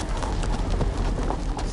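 Horse hooves clip-clop steadily in the Telltale Game of Thrones video game, a continuous near trotting rhythm over low rumbling background ambience, with no talking.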